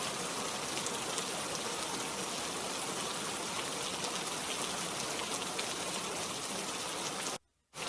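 Dense, steady hiss of heavy rain pouring down, constant and loud, cutting out briefly near the end.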